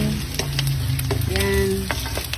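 Pork adobo with onions sizzles loudly in a frying pan while being stirred, with sharp scraping and clinking strokes over a continuous hiss.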